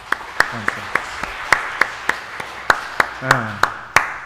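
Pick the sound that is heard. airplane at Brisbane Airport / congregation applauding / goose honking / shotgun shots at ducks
congregation applauding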